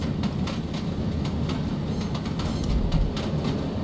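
Steady rumbling train ride inside the video game Deep Sleep: Labyrinth of the Forsaken, a continuous rolling rail drone with faint rhythmic clatter from the wheels, loud and close throughout.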